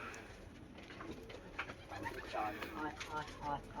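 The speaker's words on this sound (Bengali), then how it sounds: "সব পায়রা উপরে ছাড়া আছে," Pigeons coo in a loft, soft low throaty calls repeating close by, with faint voices and small movement sounds in the background.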